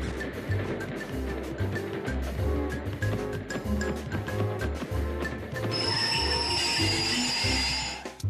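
A cartoon train rides along its rails, a rhythmic clattering rumble with metallic squeals and a rising hiss near the end, with little or no talk.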